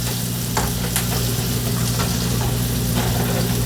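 Onion frying in a pan while being stirred, a steady close sizzle that runs without a break, with soft scraping accents from the stirring.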